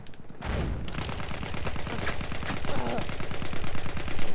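Sustained full-auto gunfire from a weapon in the video game Battlefield 1, a rapid, even rhythm of loud shots running steadily for several seconds with some battle noise behind it.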